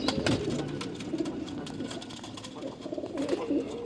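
Pigeons from Ustad Azad Butt's collection coo in low, throaty, repeated phrases, close and steady, with some background rustle.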